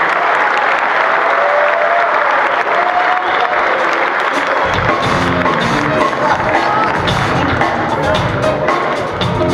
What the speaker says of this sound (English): Give another warm round of applause for